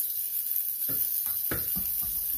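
A crusted tilapia fillet fries in a pan, giving a few soft sizzling bursts spaced about half a second apart over a steady background hiss. Nobody speaks.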